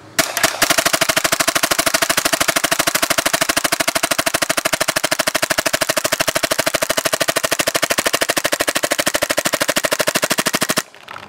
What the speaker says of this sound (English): we're going to be testing the Lapco barrel on full auto now